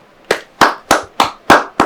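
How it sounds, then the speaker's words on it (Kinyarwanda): Six sharp hand claps for a gift, evenly spaced about a third of a second apart, loud and close, with no voices. "iyo umuntu atanze impano akoma amashyi"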